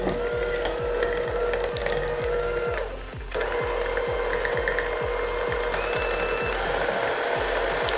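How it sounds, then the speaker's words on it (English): An electric mixer beats butter in a bowl until fluffy, giving a steady rapid mechanical rattle with regular ticking beats and a brief dip partway through, close and loud with no talking. "make sure you mix it until it's fluffy in the bowl"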